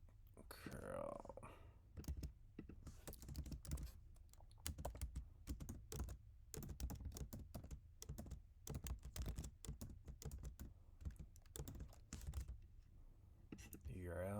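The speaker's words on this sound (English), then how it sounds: "I need to type it again." Rapid clicking keystrokes on a computer keyboard while typing a curl command, close and quiet, in uneven bursts with short pauses, and a voice speaks briefly.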